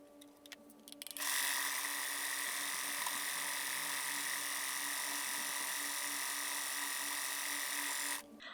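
A sewing machine stitches a curved facing edge onto a bodycon dress, its motor running as a steady, close, high whir for about seven seconds before stopping, with no talk.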